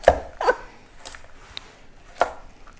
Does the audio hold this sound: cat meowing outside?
no